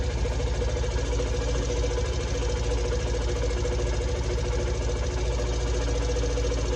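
A Yamaha YS125 motorcycle engine idles after an oil change, a steady, even mechanical clatter with a continuous low hum and light ticking throughout, close and unbroken, with no talking.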